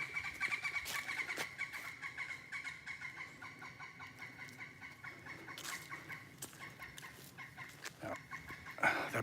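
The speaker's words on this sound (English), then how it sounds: "That bird's pissed." Chicken outdoors clucking agitatedly, with a run of repeated sharp clucks and squawks at moderate distance, louder toward the end.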